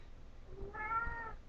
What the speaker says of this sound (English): My cat is talking.